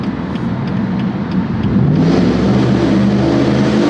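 A car engine pulls hard under acceleration, a steady broadband roar that swells and stays loud through the back half, with a rising engine tone and no talk.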